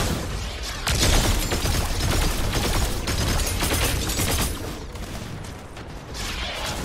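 Dense, continuous gunfire and explosions fill a round of the video game Fortnite, loud rapid bursts layered with mechanical clatter, briefly dipping before resuming.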